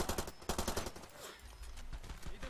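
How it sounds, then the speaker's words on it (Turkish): Heavy machine gun fire in Far Cry 2 during a dynamite mission: rapid, regular bursts of loud shots, dense at first, then thinning into scattered rounds with a lingering low rumble. "Ağır makineliyle sıkıyor."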